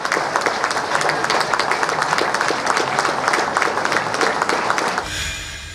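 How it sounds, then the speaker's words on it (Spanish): Sustained applause from a gathered audience at a disability rights event, honoring a late veteran's association president; dense, steady clapping fills the room, then breaks off abruptly near the end. "se rindió un minuto de aplausos al fallecido presidente de Alges, Antonio Quintanilla, un veterano de guerra"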